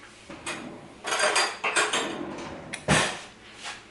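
Metal cutlery and dishes clatter in a home kitchen as a spoon is fetched to taste a freshly mixed party dip, a few sharp clinks and knocks, close and alone.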